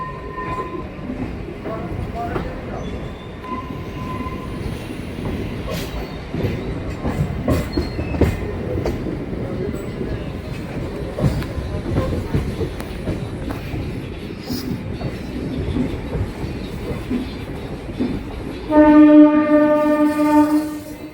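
Katwa–Ahmadpur MEMU passenger train rolling along with a steady rumble and rattling wheel clatter for a long stretch, then a loud, sustained horn blast near the end.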